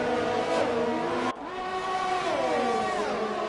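A close train of F1 cars in the F1 2020 racing video game at the Austria circuit, several high-pitched engines whining together through corners, revs dropping and rising after a brief shift, loud and continuous with no talk.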